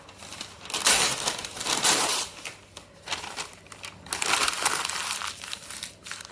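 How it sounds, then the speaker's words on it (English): Newspaper being ripped into pieces by hand for a papier-mâché hippo sculpture, with close, repeated bursts of tearing and crinkling paper in quick succession and no talk. "So what I'm going to do is get the newspaper and just rip up"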